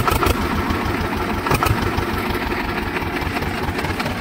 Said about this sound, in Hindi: सो एक बार आवाज सुना देते हैं ट्रैक्टर की,